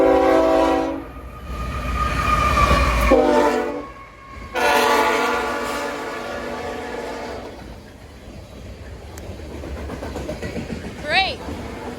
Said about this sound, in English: He's giving us a good horn show. He's still honking for us.